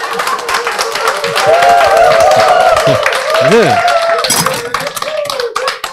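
Audience clapping breaks out during a health lecture on repairing faulty genes, a brisk patter of hands under a man's loud, close voice that talks over most of it.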